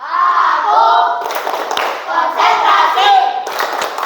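An Indonesian school class chants the 'tepuk konsentrasi' clap chant together, loud children's voices shouting in rhythm with bursts of hand claps.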